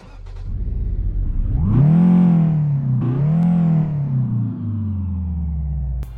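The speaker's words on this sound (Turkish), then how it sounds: "Motoru çalıştırıp yola çıkalım. Aracın da kendine özel zaten bir sesi var." A Renault 9 car engine in a Euro Truck Simulator 2 mod cranks to life and revs up hard, then settles back with a second smaller rev before idling at a steady, loud rumble.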